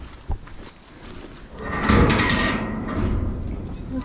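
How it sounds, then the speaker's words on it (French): A farm barrier gate being pushed back in a livestock pen, heard as a broad scraping, rattling metal noise that swells near the midpoint and continues steadily, with a sharp knock early on and people talking nearby. "On va reculer la barrière, la porte."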